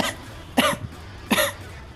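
Two short, sharp coughs from one person, spaced about a second apart, close and moderately loud with a brief throaty tail after the first, no talk.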